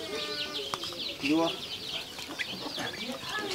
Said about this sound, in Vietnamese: Con chim đẹp thế.